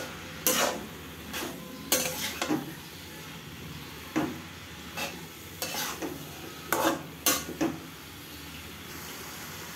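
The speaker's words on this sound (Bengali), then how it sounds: "এবার আমি এই কাটা রাখা টমেটোগুলোকে সবজিতে দিয়ে দেব। দিয়ে সবজিটাকে আমি ভালো করে নেড়ে চেড়ে নেব।" A spoon stirs mixed vegetables and freshly chopped tomatoes in a frying pan, giving irregular scraping strokes over a soft background sizzle, close and fairly loud.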